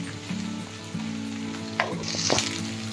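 Pulao rice being stirred in a frying pan, a steady close sizzle with scraping stir strokes and a couple of sharper clinks, no voices.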